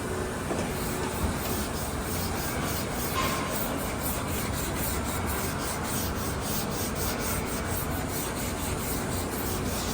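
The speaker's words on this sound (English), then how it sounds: "just rubbing it down with a block, bit of 120 on it." Steady, continuous rasping scrape of a sanding block with 120-grit paper worked back and forth over body filler, close up, with no voices.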